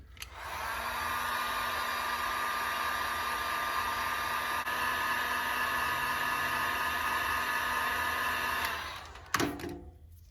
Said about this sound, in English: Use a torch, heat gun, any kind of heat to go ahead and heat up the lines